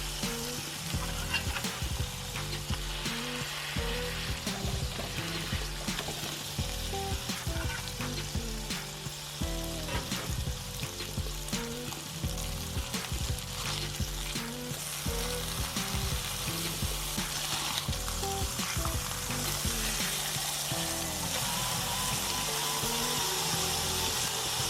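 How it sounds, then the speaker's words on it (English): Smash burger patties for a keto-friendly onion burger fry in a pan with a steady, close sizzle that continues alone throughout, with no talking. "Maybe cook them about 1 to 2 minutes on both sides, depending on how you like your burger."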